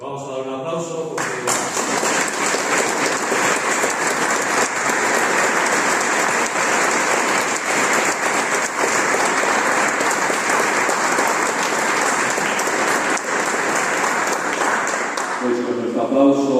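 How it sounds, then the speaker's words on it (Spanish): Congregation applauding at a church lectorate ceremony: one dense, sustained round of clapping that starts abruptly, holds steady and loud for about fourteen seconds, then stops. "Vamos a dar un aplauso"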